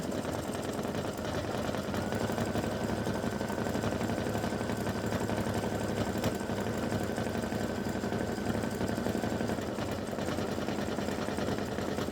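An embroidery machine stitches the outline of a turkey running back design, running with a steady, dense mechanical whir and rapid needle chatter, close and continuous for the whole stretch with no talk.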